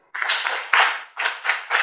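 Audience clapping at an outdoor health-promotion film screening on a public square, heard as several short bursts of hand claps separated by brief gaps, fairly close and loud.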